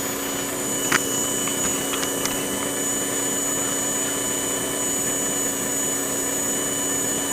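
A Tyco 440x2 slot car motor spins on a dyno with a steady high-pitched electric whine and hum, continuous and close throughout, with a couple of faint clicks early on.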